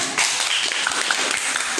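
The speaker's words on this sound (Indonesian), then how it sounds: "Tepuk tangan." A group claps together in applause, a dense steady patter of many hands held close and loud for a couple of seconds, with voices faintly mixed in.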